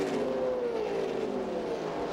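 NASCAR race cars at the Kentucky 150 racing side by side, a steady distant engine drone with a slowly falling pitch as they pass.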